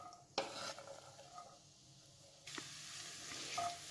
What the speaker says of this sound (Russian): И теперь отправляем сюда обжариваться нарезанный лук.